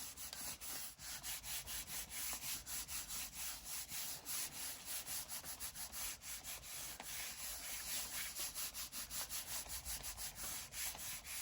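Craft cardstock is rubbed firmly over paper to lift grunge, making a close, steady scratchy rasp of quick repeated back-and-forth strokes that continues without pause.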